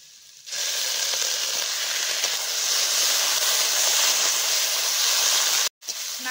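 Taro leaves frying with coconut paste in a pan give a loud, steady sizzle and hiss that starts abruptly, holds continuously, and breaks off briefly near the end before resuming.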